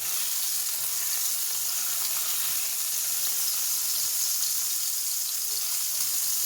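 Potatoes stir-frying in a pan give a steady, close sizzle with a constant hiss throughout and no talking.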